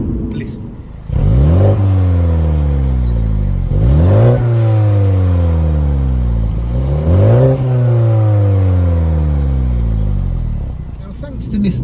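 A 2020 Mini JCW Clubman accelerates hard out of a corner, its engine climbing loudly through repeated rising sweeps with three distinct gear changes, close and dominant throughout.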